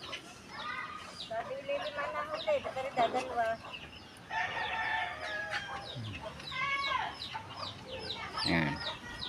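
Chickens cluck in bursts after being fed, close and lively, with occasional rooster calls and a person talking faintly amid the flock.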